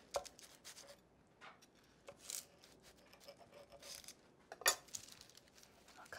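A knife cuts and scrapes through a turkey, pesto and veggie calzone on a board, giving crisp crackling crunches and clinking taps of the blade, close and fairly quiet, in two stronger bursts.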